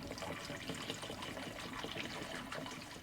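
Warm water pours down a sink drain in a motorhome water system, a faint, continuous trickling rush with no break and no talk.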